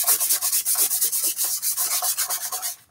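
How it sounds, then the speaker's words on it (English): Rapid, rhythmic scratchy strokes of sandpaper rubbing back and forth against a plastic Nerf blaster, close up and steady, with no talking. "I'm starting by sanding off my blaster"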